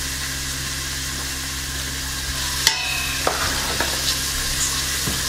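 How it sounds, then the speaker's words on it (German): Two small diced onions hitting a pot with a little oil, giving a steady close hiss with a few sharp clatters and scrapes partway through, no talking. "Ich habe hier einen Topf mit minimal Öl drin und da gebe ich jetzt einfach mal zwei kleine Zwiebeln gewürfelt"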